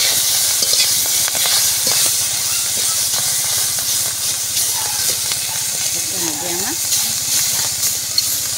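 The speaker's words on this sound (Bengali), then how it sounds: "এখন আমি এই যে রান্না শুরু করলাম।" Boal fish mixture starting to cook in a pan, giving a loud, continuous hiss and sizzle with faint stirring scrapes throughout.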